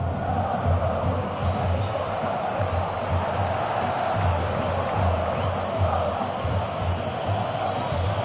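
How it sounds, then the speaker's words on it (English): A stadium crowd in the football video game PES 18 roars and cheers continuously, a dense steady wall of voices with swelling whoops, loud and sustained throughout. "you can feel and hear how the crowd are reacting to all of this"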